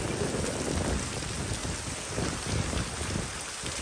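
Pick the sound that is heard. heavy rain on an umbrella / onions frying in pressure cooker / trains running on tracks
heavy rain on an umbrella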